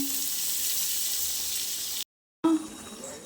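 Butter chapati frying on a hot griddle, a bright steady sizzle close by that cuts out briefly and then resumes with a crackling burst.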